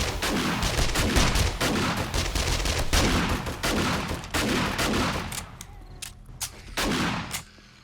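Rapid bursts of gunfire in the zombie survival video game 7 Days To Die, set in a tall hotel, with repeated loud shots and volleys crowding the first five seconds, then sparser single shots before fading out.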